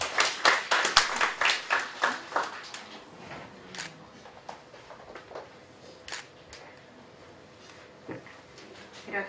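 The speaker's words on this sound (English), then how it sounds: "Please let's give a warm applause to our discussant for this afternoon" Applause at a Mabini Dialogue Series seminar on Japan's disaster risk practices, a short burst of rhythmic clapping that quickly thins to a few scattered claps and quiet room noise, with some talk in the background.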